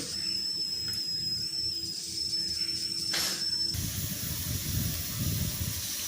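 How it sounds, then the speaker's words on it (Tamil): Steady hissing steam from a pressure cooker on a gas stove with a sharp high whistle tone through the first part, then a broader rushing gush of released steam, loud and close, no talk. "இப்போ 4 விசில் வந்துடுச்சு."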